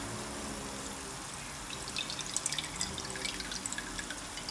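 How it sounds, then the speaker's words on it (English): About a quarter cup of soy sauce poured into a pan, with a thin trickle and a few drips heard faintly near the end over low background hiss. "going to get your soy sauce. And I'm going to put about a quarter cup."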